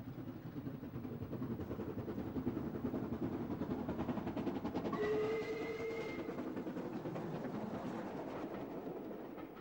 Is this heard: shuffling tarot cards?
no